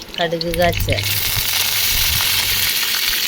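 Mustard seeds and whole chillies crackle and spatter in hot oil for tempering mango pulissery, a dense continuous sizzle after a short burst of a voice at the start.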